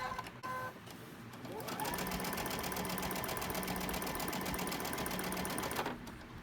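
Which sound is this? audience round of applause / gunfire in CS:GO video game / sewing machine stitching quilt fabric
sewing machine stitching quilt fabric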